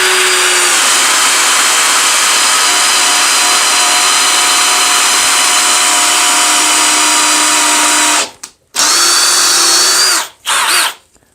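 A Parkside PPBSA 20 Li A1 cordless drill bores into wood in first gear, a loud continuous motor whine for about eight seconds, then cutting off and restarting in two shorter bursts with brief silences between.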